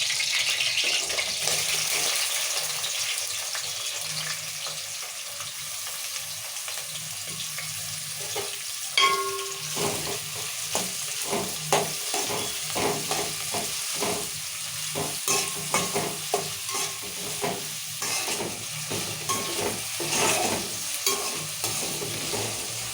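Chopped onions and green chilies fry in a pan for a chicken curry, a continuous close sizzle with repeated spatula scrapes and stirring clatter growing busier through the second half.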